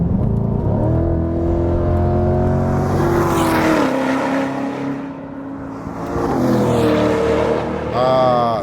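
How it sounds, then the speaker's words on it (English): A 2020 Chevrolet Corvette C8 drives hard on a racetrack, its engine note climbing and dropping through gear changes, loud and close, ending in a sharp rising rev. "Let's get this Corvette stretching its legs on a racetrack."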